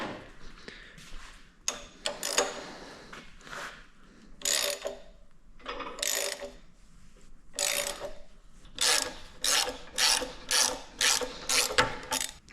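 A puller pulling the pulley and harmonic balancer off a Chevy 350 engine, with repeated close ratchet clicks in short bursts that grow quicker and more regular toward the end, and no voices.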